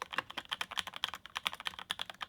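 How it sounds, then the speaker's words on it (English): Quick typing on a Keychron K8 mechanical keyboard, crisp plastic clacks in an uneven stream of close, distinct keystrokes with no voices. "the sound of the Keychron K8 does sound great"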